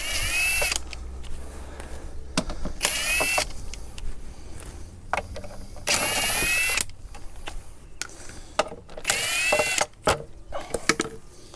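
Impact wrench bursts loosening lug nuts from a Dodge Caravan wheel in a garage, several loud whirring runs of a second or so separated by pauses and clanks, close and alone without talk.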